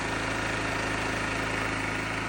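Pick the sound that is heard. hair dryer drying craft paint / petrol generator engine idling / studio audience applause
petrol generator engine idling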